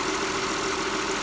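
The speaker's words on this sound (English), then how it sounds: "it's just a really smooth motor" A 2003 Audi A6 Quattro with a 3.0 V6 engine runs smoothly at a steady, even drone, with a constant hum throughout and no change in pace.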